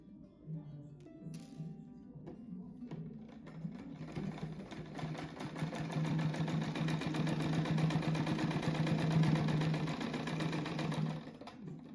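A sewing machine runs steadily, stitching down the middle of an existing seam in a patchwork scrap rug, its rapid mechanical whir building and continuing for several seconds close by with no talk.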